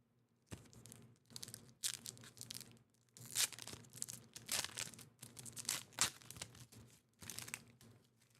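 Close, quiet crinkling and tearing of a foil Pokémon trading card pack wrapper in repeated bursts, with crunchy rustles separated by short pauses; no voices.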